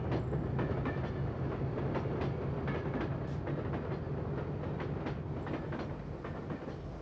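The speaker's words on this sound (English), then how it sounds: "The train was set in motion, without a driver." A driverless train rolls steadily along the rails toward a nuclear flask collision test, with a continuous low rumble and a faint repeating clickety-clack, close and sustained, with no voices.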